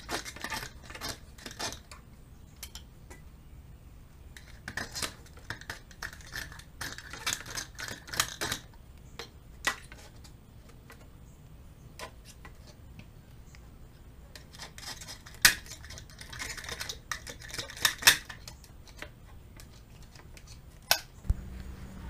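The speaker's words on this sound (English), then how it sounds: "Just been scraping with the blade and using a little bit of acetone, and it's coming right off." A blade scraping debris off a portlight on an 87 Wellcraft Gran Sport boat, faint close irregular scratches and clicks coming in short bursts with quiet gaps between.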